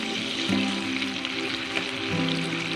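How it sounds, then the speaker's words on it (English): Venison backstrap sears in a hot pan just after being flipped, a steady dense sizzle running unbroken from start to finish with no talking over it. "Okay, our venison has been cooking pretty good on one side."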